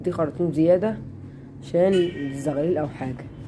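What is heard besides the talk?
No everyday noise stands out behind the speech.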